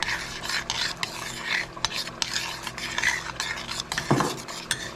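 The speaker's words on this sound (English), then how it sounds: "You want to stir that up." A spoon stirs a seasoned tomato sauce mixture with dried parsley and cumin, scraping and clinking against the pot in repeated strokes, close and fairly loud, with one sharper knock near the end.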